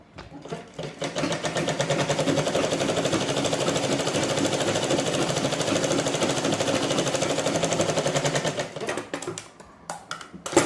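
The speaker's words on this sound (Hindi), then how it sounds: "ये देखिए अब मैं साइड वाली सिलाई भी लगा दूँगी" An electric sewing machine runs in one long, fast, steady burst while stitching the side seam of a forex blouse, then stops, followed by a few short clicks and handling noises.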